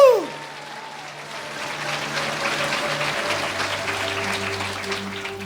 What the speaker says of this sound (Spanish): Fuerte aplauso Iglesia de Cristo.